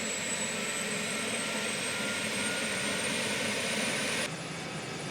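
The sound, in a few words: helicopter engine spooling up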